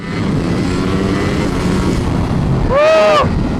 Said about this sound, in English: Opening full throttle on this motorcycle is truly scary, even for me.